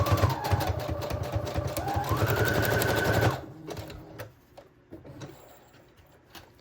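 A sewing machine stitches a lace-trimmed pocket onto a patchwork junk journal, a rapid close mechanical chatter that speeds up before stopping abruptly, followed by a few light clicks and handling sounds.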